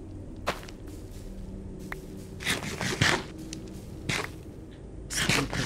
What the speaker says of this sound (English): You guys can hear my keyboard spamming